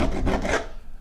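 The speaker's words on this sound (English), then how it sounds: "to go up and down and try to get the top coat of paint off of the wall" Several quick rasping strokes of a paint scraper dragged up and down a wall, taking off the top coat of textured paint, close and gritty with short pulses before fading away.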